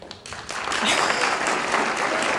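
Audience applause fills a gala hall for a family charity event, a dense, steady wash of clapping that swells after a brief start and holds at full strength, with a few voices mixed in.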